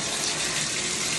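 Water running hard from a tap while bath water is mixed with hot water on a cold winter day, a loud continuous gushing close by.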